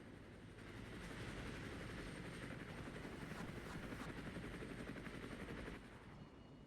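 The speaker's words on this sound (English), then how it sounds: "Yes, helicopter spotted." In the military video game Armored Brigade, a helicopter's rotor drones steadily and fairly quietly, mixed with rapid distant gunfire crackling throughout.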